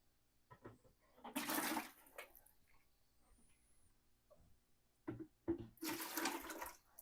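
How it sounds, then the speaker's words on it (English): Water being poured from a bucket while refreshing the water dishes of a large group of box turtles, with two loud splashing bursts separated by quieter rustling and handling sounds, close by and with no talking. "I get this bucket and I change everybody's water out."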